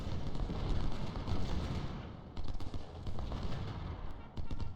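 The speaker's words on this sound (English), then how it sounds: "We're putting in artillery to support you." Artillery fire in the Civil War strategy game Ultimate General: Civil War, at the Fredericksburg battle: a dense, continuous rumble of booming cannon and gunfire with sharper cracks breaking through.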